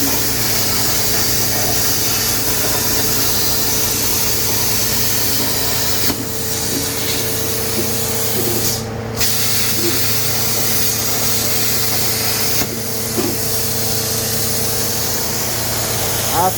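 A Plasma Cam Sampson 5x10 plasma cutter slices an undersea design into a metal panel for a custom pantry door, giving a steady, loud hiss and hum with a constant low drone, briefly dropping out around midway.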